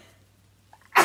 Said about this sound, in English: I sneeze loud, I can't hold it in.